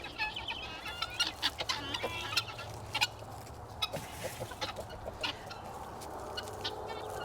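Guinea fowl and chickens cluck and chatter up close at a farm, with a busy overlapping stream of short calls and squawks and no voices.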